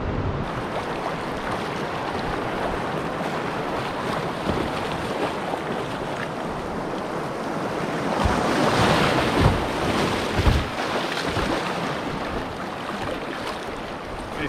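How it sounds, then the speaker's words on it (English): A canoe runs a small whitewater rapid on a northern wilderness river. Rushing water roars steadily with wind buffeting the microphone, and the churn swells louder midway through before easing. "First little rapid of the trip."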